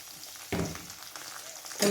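Crushed garlic dropped onto golden-brown fried onion in a pan for tomato chutney, a quiet sizzle that swells briefly as the garlic goes in, then again near the end.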